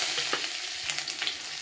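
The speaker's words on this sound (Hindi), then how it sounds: "इसे गोल्डन ब्राउन होने तक भून लेंगे।" Onion frying with panch phoron and green chili in a little oil, a close, steady hiss and crackle of sizzling with faint stirring scrapes, no voices.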